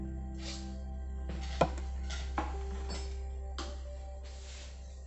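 A knife chops coriander, green chilli and onion on a board for a Tulu masala rotti, giving several soft, faint strokes over a steady low kitchen hum.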